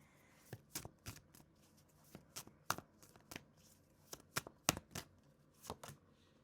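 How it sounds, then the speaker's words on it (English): Tarot cards are riffled and shuffled in a series of short, crisp bursts, quiet and close, with brief pauses between them. "One more shuffle."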